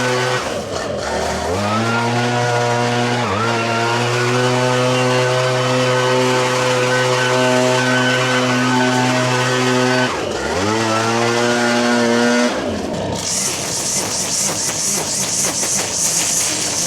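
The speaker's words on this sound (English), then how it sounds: "That blower is insane." A Formula K Equipment leaf blower roars close by in a yard, its engine note holding steady with a few brief dips and surges before cutting to a harsher rushing whine near the end.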